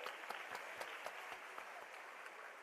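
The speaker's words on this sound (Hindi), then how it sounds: "देखिए जोरदार तालियां" An audience applauds steadily, a dense patter of many hands clapping, moderately distant and even throughout, with no talking.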